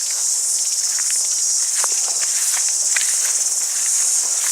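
Crickets and other insects chirp outdoors in a dense, continuous high-pitched drone, loud and close, with faint footsteps and rustling beneath as someone walks past.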